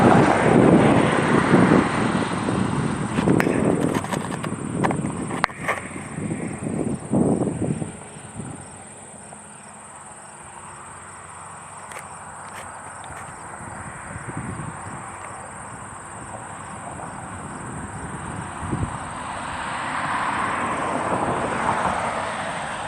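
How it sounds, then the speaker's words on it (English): A United Embraer E175 jet lands on runway 18 at Green Bay airport, a loud roaring engine rush close by at first that fades over several seconds, then a distant hum returns, with insects chirping steadily throughout. "Here we have the United E175 coming in from Chicago O'Hare on short final for runway 18 at GRB."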